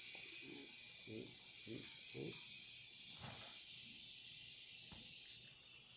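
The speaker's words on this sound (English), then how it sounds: "We'll make espresso shot on it." A La Pavoni Europiccolo lever espresso machine, freshly serviced, pulls a shot with a steady, close hiss of steam and pressure, broken by one sharp metallic click and soft low thuds.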